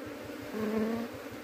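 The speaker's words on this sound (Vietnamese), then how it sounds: "đã thấy con ong chúa rơi vào đấy nha các bạn, và đã bắt được nhá." Wild bees buzzing around a caught queen bee from a roadside nest, a close, steady droning hum that swells in the middle, with no voices.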